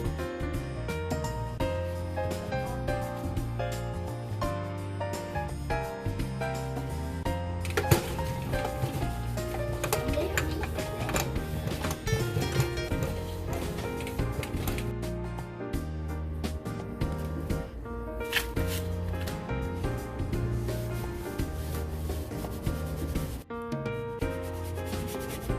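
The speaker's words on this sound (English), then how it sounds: "This is one side where we scrub off all the stains" Steady scrubbing of a stained old toaster's surface with baking soda, a continuous close rubbing sound heard alongside background music, with no talk.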